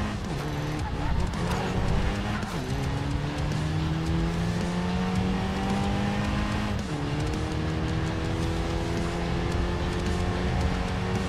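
A car drifts through a bend in a realistic racing video game, its engine droning steadily with pitch shifts and sweeps as it slides, tires hissing underneath, loud and continuous for about eleven seconds.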